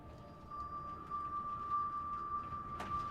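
Ambient bells in a music track ring as a faint, sustained high tone over a soft, low background wash, with one brief brighter shimmer near the end.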